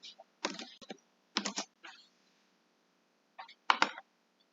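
Quick bursts of typing on a computer keyboard, close and quiet, several clusters of key clicks separated by pauses, with no talk.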